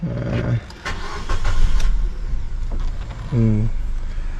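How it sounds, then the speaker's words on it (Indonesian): A 2014 Suzuki Ertiga GX car engine cranks and turns over, settling into a rumbling idle, with brief chime-like tones and a short voice nearby. "kita akan tes untuk nyalain mobilnya"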